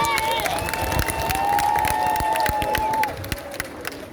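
A crowd in Mamoudzou, Mayotte applauds steadily at an outdoor political gathering, dense clapping mixed with cheering and crowd noise that dips slightly toward the end.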